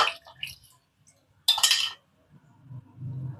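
Water splashing and rinsing inside a mixer grinder jar in a home kitchen, a burst of running water with clinks of the jar, then quiet scraping and faint movement afterward.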